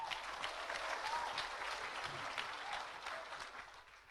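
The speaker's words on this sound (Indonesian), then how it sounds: "Kita beri tepuk tangan." Churchgoers applaud during a Catholic service, a brisk round of clapping that fills the room and then gradually thins and fades toward the end.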